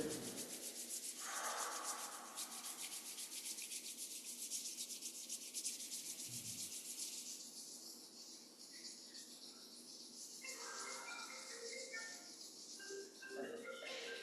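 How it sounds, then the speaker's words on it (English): Palms rubbed together during a qigong practice make a soft, continuous brushing friction, faint and close, in a quiet room with a light background hiss. "Rubbing the palms together."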